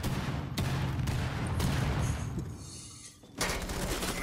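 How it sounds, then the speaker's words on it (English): Rapid MP5 submachine gun fire in Rainbow Six Siege, loud close bursts of automatic shots in quick succession, pausing briefly before another burst. "Wow, that there was barely any kick in that. That's an MP5."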